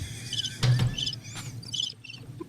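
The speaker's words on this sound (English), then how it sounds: "where's the cricket sound?" A cricket chirping sound effect plays in short bright pulsing bursts, fairly loud, repeating several times with gaps, alone without talk.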